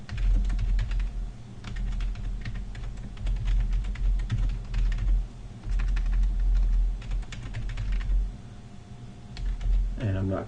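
Typing code on a computer keyboard, with rapid, steady key clicks in bursts close to the microphone over a low steady hum, brief pauses between runs and a faint voice now and then.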